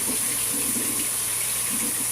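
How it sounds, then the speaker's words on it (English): Cold tap water runs steadily over drained canned beans in a kitchen colander, a continuous close hiss and splash with no talking. "I'm gonna run some cold water over them and just drain all of that juice off."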